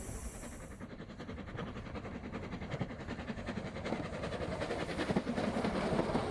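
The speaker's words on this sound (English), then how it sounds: "On this first departure there were 330 passengers on the one train." A double-headed train of eleven coaches, two locomotives at the front, pulls out of Douglas with a steadily building rumble and rhythmic rail clatter that grows louder and nearer throughout.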